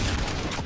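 Rocket launcher in a Doom mod firing a fast rocket that explodes, a dense continuous burst of booming blast noise lasting well under a second, loud and close with no talk.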